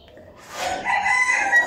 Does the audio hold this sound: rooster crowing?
yes